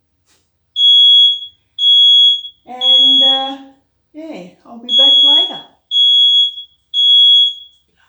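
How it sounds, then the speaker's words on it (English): A kitchen smoke alarm blares in loud, piercing beeps, seven long tones in an even rhythm, while someone speaks briefly between and over them. "Bloody alarms."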